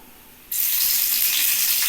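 Garlic hits hot oil on a flat roti griddle: a brief quiet, then a sudden loud sizzle that bursts in and holds steady, close by.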